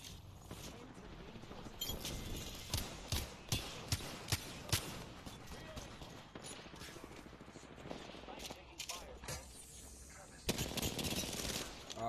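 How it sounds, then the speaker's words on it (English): Rapid gunfire in an Apex Legends match, bursts of automatic shots and single cracks repeating throughout, loud and close, with players talking over it. "Watch out, they're shooting from the middle."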